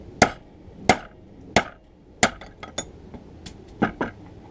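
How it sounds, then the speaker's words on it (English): Sharp metallic taps strike a survival knife part sitting loose, unclamped, in a vise, about eight distinct hits in an uneven rhythm, some paired closely, close and clear with no talking. "I'm just going to keep tapping."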